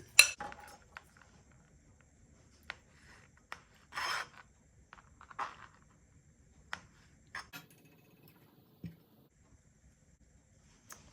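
Greek horiatiki salad being tossed in a bowl with onions, giving sparse clinks and soft rubbing scrapes of utensils against the bowl, separated by quiet pauses.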